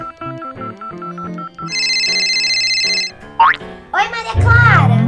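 A cellphone rings with a bright, repeating electronic ringtone melody for a few seconds in a children's story setting, followed by a voice and other speech.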